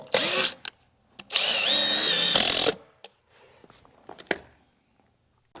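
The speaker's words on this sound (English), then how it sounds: "The old hammer drill." An old hammer drill bores into a wall during under-slab plumbing rough-in for a cabin build, heard as two loud, close whirring bursts, a short one followed by a longer one, with scattered knocks and handling noise in between.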